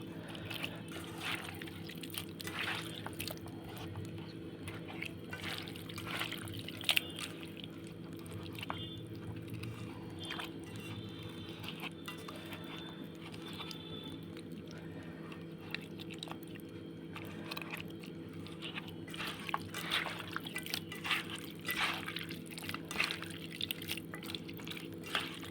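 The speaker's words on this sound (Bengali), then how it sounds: "সুন্দর করে মেখে নেবেন একদম এইভাবে চটকিয়ে ছিমটাকে মেখে নেবেন।" Boiled flat beans are mashed and squeezed by hand in a home kitchen, making soft, wet squelching and squishing sounds that continue close and quiet over a steady low background hum.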